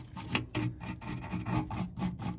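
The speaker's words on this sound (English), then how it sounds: "All I had to do is just stick a little piece of sandpaper right there, clean." A small piece of sandpaper rubs a part clean on a 1971 Dodge Charger Super Bee starter, giving faint, close, rhythmic rasping strokes at a quick even pace.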